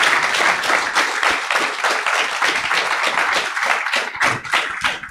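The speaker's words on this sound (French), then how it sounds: "On peut l'applaudir encore une fois." An audience at an evening YouTube creators' event claps steadily in dense applause for several seconds, close and loud, with individual claps standing out near the end.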